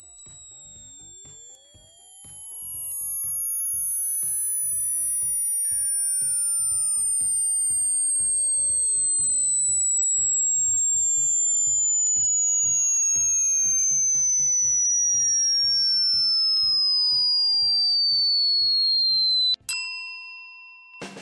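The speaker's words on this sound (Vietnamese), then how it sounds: "phát một số tần số âm thanh mà tai người thường không nghe thấy được" A pure high-pitched test tone sweeps steadily downward from the top of the hearing range for about twenty seconds, loud and alone, then stops abruptly.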